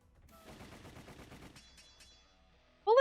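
A quick rattling burst of gunfire in the game Tengoku Struggle, fairly faint and lasting about a second, followed by a few sparse clicks and a sudden sharp sound at the end.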